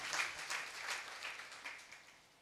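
A congregation at a Sunday church worship service claps together in a brief burst of steady, fairly faint applause that tapers off by the end.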